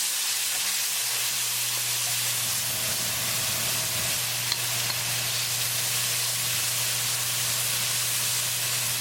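Tomato sauce cooking together with a tadka for palak dal sizzles and hisses in a dense, unbroken wash, with a low steady hum beneath, constant and close.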